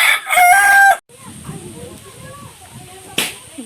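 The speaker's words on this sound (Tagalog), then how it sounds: "May manok doon guys. Nangingitlog yan." A rooster at a rural home with egg-laying hens lets out one loud, close crow lasting about a second, followed by quieter clucking and rustling and a brief sharp snap near the end.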